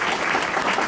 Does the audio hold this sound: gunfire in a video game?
no